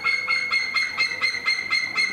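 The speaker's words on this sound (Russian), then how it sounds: "Это вот кто кричит." A large bird at a zoo, likely a griffon vulture among eagles, calls loudly and insistently in a steady series of harsh, repeated honking cries, close and unbroken.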